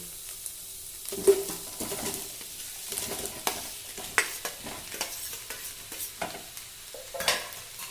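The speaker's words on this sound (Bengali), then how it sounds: "আলু কুমড়োটা আমি 2 থেকে 3 মিনিট লো ফ্লেমে কষিয়ে নিয়েছি" Fried potato and pumpkin sauté in spice paste in a pan over a low flame, with a soft sizzle under repeated irregular scrapes and clacks of a stirring spoon, close and moderately loud.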